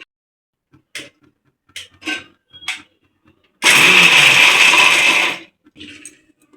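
A mixer grinder whirs loudly for about two seconds, grinding roasted peanuts for rava laddu, framed by scattered clinks and handling knocks before and after.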